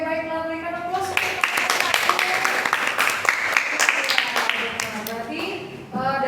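Classroom applause from students during a teacher's lesson, a dense patter of many hands clapping steadily for several seconds at moderate loudness, then cutting off abruptly.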